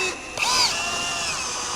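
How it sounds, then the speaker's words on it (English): A power drill briefly whirs as it drives a 6-inch GRK structural screw into a deck post: a short rising whine that peaks and then fades into a steady, moderately loud motor hum. "I'm using 6-inch GRK structural screws to secure these posts"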